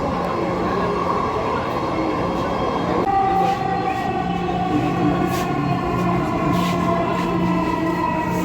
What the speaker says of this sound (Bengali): আমরা এখন মেট্রো রেলে আছি, অলরেডি উত্তরার উদ্দেশ্যে রওনা দিয়েছি